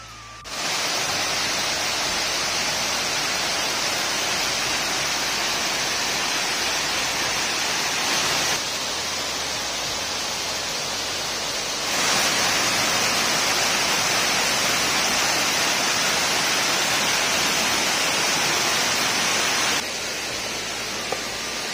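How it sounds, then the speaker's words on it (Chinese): A waterfall at Cangshan with a 20-metre drop rushes steadily throughout, a loud, dense roar of falling water with no speech. "还没有走近就可以听到哗哗的水声"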